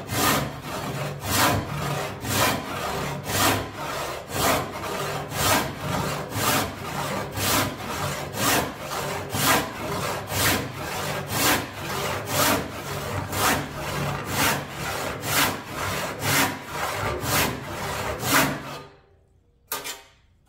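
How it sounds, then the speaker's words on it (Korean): Hand saw cutting through a wood block being shaped into square timber, steady back-and-forth strokes about one per second, close and loud, stopping abruptly near the end. "위에서 먼저 그어주고 그 다음에 이제 톱질을 합니다."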